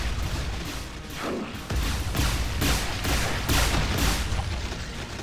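Rapid gunfire rattles through a Brutal Heretic shooter level, loud and dense, with repeated blasts in uneven bursts over a constant roar of game noise and no voices.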